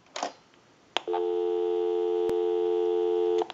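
A busy signal plays through the handset of a Western Electric rotary Princess telephone: after a couple of clicks, a steady, loud electronic tone holds for over two seconds, then is cut off.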